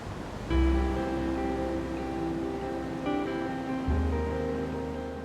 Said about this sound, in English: On its day, it gets good waves.